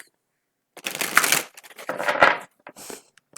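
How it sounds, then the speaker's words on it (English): Playing cards being shuffled: bursts of crisp, rapid riffling and flutter, close by, with short pauses between runs. "Okay, one quick shuffle."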